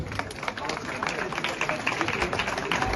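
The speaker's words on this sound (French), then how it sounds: "Donc, on peut l'applaudir." An audience at a wine awards ceremony applauds a prize winner walking up to the stage, a continuous crackle of clapping close by with speech babble mixed in.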